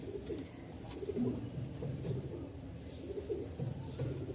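Soft, low pigeon cooing repeats in short bursts against a quiet background, several birds murmuring at a moderate distance.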